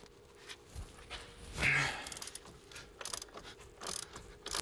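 A ratchet socket wrench works on bolts of a car front axle half shaft in short bursts of clicking, close by amid faint workshop shuffling and a sigh.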